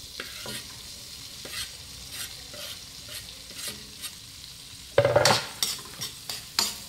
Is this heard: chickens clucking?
no